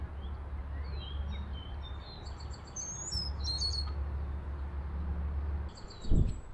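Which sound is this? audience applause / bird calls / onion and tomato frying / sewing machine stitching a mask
bird calls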